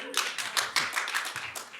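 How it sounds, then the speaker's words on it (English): Scattered clapping from a small audience at a political conference campaign-skills session, a brief, light burst of hands heard fairly close and mixed with faint voices. "I'm not trying to ask for clapping."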